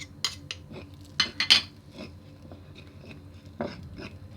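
Spice powders, including cardamom, are stirred into chicken breast rendang, giving a few close, light clinks and scrapes of a utensil against the pan with quiet pauses between.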